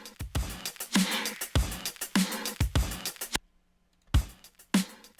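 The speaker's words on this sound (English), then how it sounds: "a separate bus, which I use for parallel drum compression." A drum kit sent through a heavily compressed parallel bus plays a punchy groove of close, dense kick and snare hits, stopping for nearly a second of silence before resuming.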